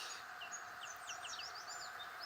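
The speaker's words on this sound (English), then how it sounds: "The birds are chirping, so that's nice." Several birds chirp outdoors near a garden, quick high tweets scattered across a quiet background, faint and somewhat distant.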